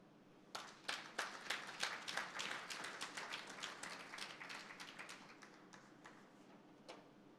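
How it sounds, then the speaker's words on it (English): Applause at a national food fortification awards summit for a salt company, a crowd clapping in a dense, even patter that starts abruptly, holds steady for several seconds and thins out, heard from a distance in a large room. "A round of applause for Ken Salt."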